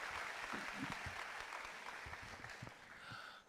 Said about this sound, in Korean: 자, 우리 주님께 영광의 박수 올리겠습니다.